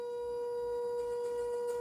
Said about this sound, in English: So that noise you're hearing right there, that's the brakes.